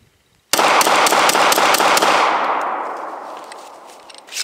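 A Glock 43 pistol fires a quick string of about eight loud, sharp shots outdoors. The rapid cracks blur into one another, then a long echo fades, and a faint metallic click follows near the end.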